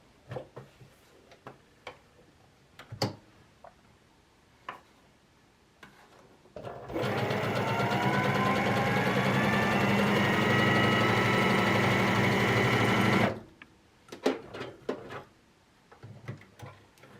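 A FEIYUE FYe350 heavy-duty sewing machine runs a wide stitch, a steady loud motor hum with rapid needle ticking for about six seconds, framed by scattered handling clicks and taps.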